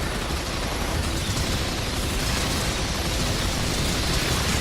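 Dense, unbroken weapon fire in Earth Defense Force 5 fills every moment with a loud, steady roar of shots and blasts, with no pauses or voices.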